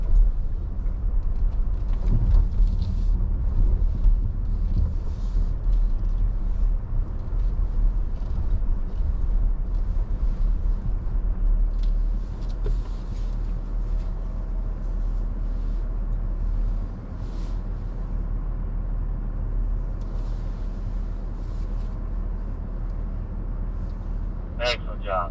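A car creeps along at about 3 miles an hour on a driving course, with no gas and no brake, giving off a low, steady engine rumble that stays constant throughout.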